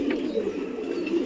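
Hariṇa pigeons at a pigeon sanctuary coo in a steady, low, throaty murmur that runs without a break, fairly close, with no talk over it.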